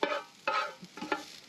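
Ginger, onions, carrot and capsicum fry in oil in a pan, with brief bursts of sizzling and scraping stirs, close and fairly quiet, no talking.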